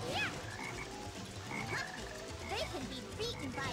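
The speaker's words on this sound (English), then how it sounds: "Cream doesn't like Black Frogs." Black Frog enemies in the Sonic Heroes video game croak repeatedly, several chirpy rising calls scattered over a busy game soundtrack, with no talk.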